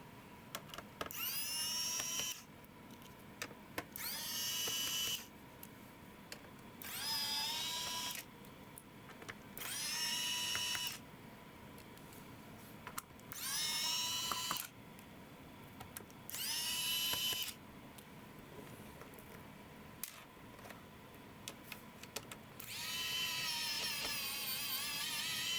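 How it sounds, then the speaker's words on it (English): Screws being removed with a power screwdriver from the back case of an MSI GP76 Leopard laptop, regular Phillips screws, heard as repeated short whirring bursts spaced a few seconds apart, with quiet pauses between them. "we'll have to remove a couple screws, regular Phillips screws, so we get rid of the back case"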